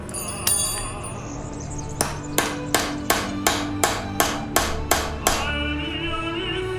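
A hammer drives nails into wood: a few scattered taps, then a steady run of about ten evenly spaced, ringing blows, close and clear against a quiet room.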